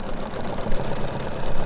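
A sewing machine does free-motion stitching on a mixed media surface, giving off a continuous close whirring hum with no talking.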